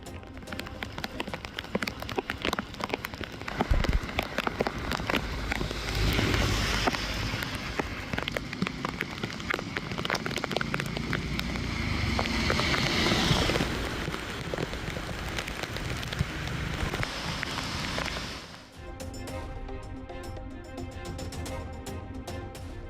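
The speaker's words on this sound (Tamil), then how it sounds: "சென்னை புறநகர் பகுதியான பூவிருந்தவல்லியில் கனமழை." Heavy rain in Poonamallee, a Chennai suburb, pours steadily as a dense hiss of drops pattering on surfaces, swelling and easing before dropping off near the end, with no talk.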